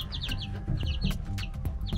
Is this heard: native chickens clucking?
yes